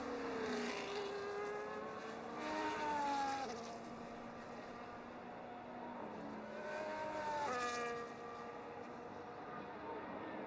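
A racing car on an out lap in an F1-style sim race at the British Grand Prix, its engine whining up and down through gear changes, steady and close, with a commentator talking over it.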